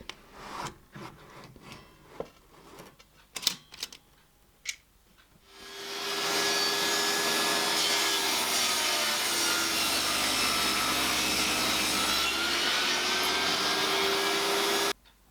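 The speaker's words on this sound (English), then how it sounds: "then I'll start cutting these down to the width that I need them to be" A saw rips through wooden boards, trimming them to width for a small barrel-style shot glass holder; after a few scattered knocks and handling sounds, a loud, steady cutting roar runs continuously for about nine seconds.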